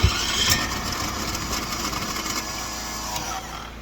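An RV generator engine runs steadily just after starting, a continuous mid-pitched hum and drone with a faint click near the start, close and fairly loud with no talk.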